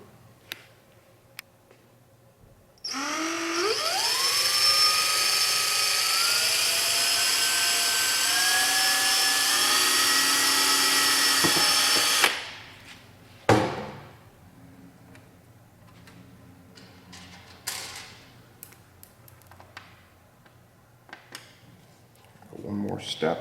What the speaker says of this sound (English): I'm going to use a unibit to go through.